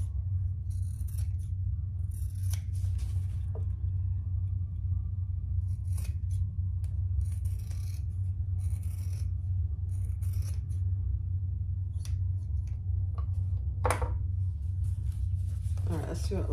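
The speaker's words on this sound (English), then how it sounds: "I'm just using some scissors, some really sharp scissors to trim." Very sharp scissors snip repeatedly through thick fabric in short, uneven bursts over a steady low hum, with occasional rustling.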